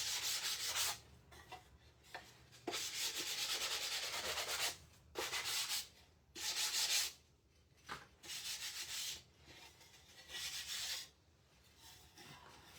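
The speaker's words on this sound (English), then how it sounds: "Let's go sand the rest, because I did not sand it at all yet." Sanding a wooden pallet sign for a rustic patriotic stencil project: loud, close rasping strokes in repeated bursts of a second or two, separated by short pauses, with no talking.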